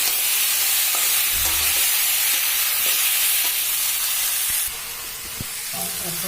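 Mango pieces frying with chilies in a hot pan for pickle give off a steady sizzling hiss with occasional stirring scrapes, fairly close and continuous, easing slightly near the end.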